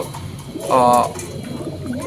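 A single female Andalusian racing pigeon coo, a short warbling call lasting about a quarter second, rising clearly over a quiet background with faint talk.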